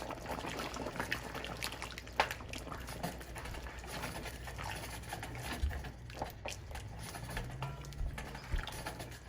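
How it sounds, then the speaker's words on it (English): Oxtail gravy with butter simmers in a pot, a quiet, steady bubbling and popping that goes on throughout with no voices. "we're gonna let this simmer down to gravy"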